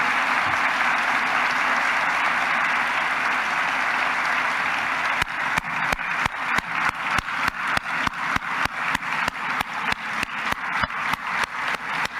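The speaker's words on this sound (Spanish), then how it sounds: "Un aplauso a todos, por favor." A crowd at a Dominican public ceremony applauds doctors, nurses and health staff. A long wash of applause gives way halfway through to loud, evenly spaced rhythmic clapping in unison.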